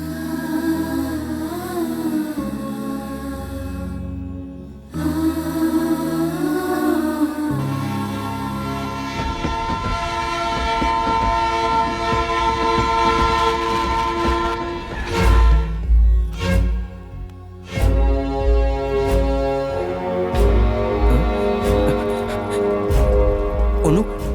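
A train at a station in a dramatic film scene sounds a sustained horn, then rumbles and clatters with heavy rhythmic thumps, loud and close, with music and voices woven through.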